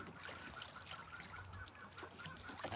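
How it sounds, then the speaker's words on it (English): Roman tufted goose gander honks from a backyard pool among other geese, a few faint, rough calls over steady outdoor background noise, with no voices. "There's the gander in the pool there now. Roman tufted goose."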